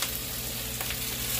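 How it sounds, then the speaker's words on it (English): Shrimp frying in a pan, a close, steady sizzle with small crackling pops and a faint stir, short and continuous with no talking. "I've been cooking these shrimps for a good while. They're popping."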